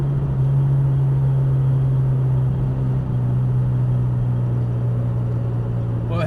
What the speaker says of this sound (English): Oh yeah, the turbos kick in.